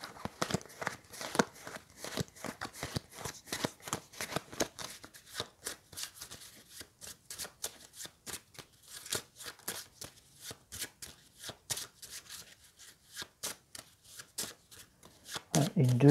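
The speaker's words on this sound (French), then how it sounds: "Il faut que je refasse ma main, ma pioche. Allez, je remélange tout." A deck of playing cards is riffled and bridged repeatedly during a solo board game, sharp rapid flutters and snaps in quick bursts, close and clear, with brief gaps between shuffles.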